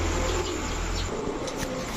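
Pigeons, including Giribaz, Lahori and racer breeds, coo in low throaty murmurs at a street pigeon seller's stall, close by, over a steady background hum.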